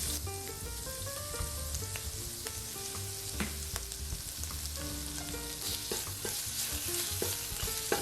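Garlic sizzling and crackling steadily in a hot stir-fry pan just after seared seitan is removed, a dense continuous hiss with scattered pops and occasional utensil scrapes, close and without talk.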